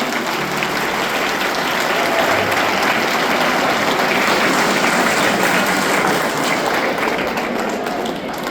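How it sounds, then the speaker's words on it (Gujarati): A community fair crowd at a Patidar Samaj gathering in Nelmangala breaks into loud, sustained applause, dense clapping filling the whole stretch without letup. "એને એકવાર ખૂબ તાળીઓથી વધાવશો."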